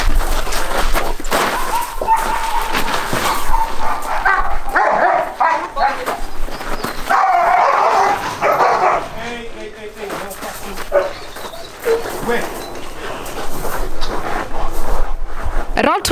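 Rottweiler dogs barking repeatedly close by in Kenya, loud and steady throughout, with voices talking over much of it.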